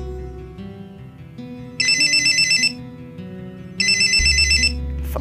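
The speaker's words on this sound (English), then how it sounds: "Phone call? Ring, ring, ring, ring, ring, ring. Phone call, phone call." A telephone rings twice in the video game Juggernaut, with bright electronic warbling trills in two bursts over steady game music, loud and close.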